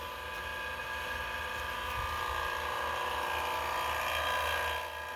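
A vacuum pump pulls a vacuum on a sealed, closed mold for epoxy carbon-fiber parts, giving a continuous, steady mechanical whine and hum that holds at an even level throughout.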